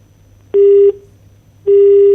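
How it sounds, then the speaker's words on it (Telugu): Two steady electronic phone tones, each lasting under half a second, separated by a short quiet gap, like a line-disconnected beep pattern. "ఫోన్ లైన్ కట్ అయినట్టుంది"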